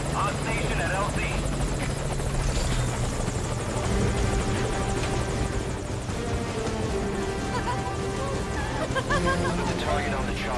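Helicopter in Metal Gear Solid 5: Ground Zeroes, its rotor thrumming loudly and steadily throughout while voices speak over it.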